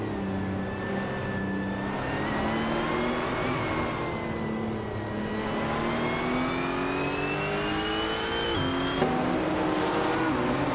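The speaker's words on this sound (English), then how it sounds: "Turbo Benzina takes the lead right out of the gate with a strong launch." Race cars launch at the start of a racing video game, with several engines revving together and climbing steadily in pitch, a continuous loud roar with a brief tyre squeal late on.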